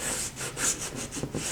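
A corner of a recycled cardboard cereal box is rubbed down by hand during a book box craft, a quick run of close, rhythmic scratchy rubbing strokes.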